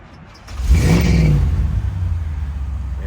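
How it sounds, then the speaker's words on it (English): A 1983 Crown Victoria police car converted into a mud bogger cranks and fires up, its engine catching with a quick revving surge and then settling into a loud, steady rumbling idle nearby. "Now I started so you guys can hear it run."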